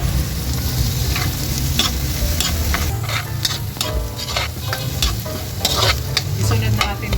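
Garlic and onion sizzle and crackle steadily in hot oil in a pan, close and continuous, with occasional stirring scrapes and no talking.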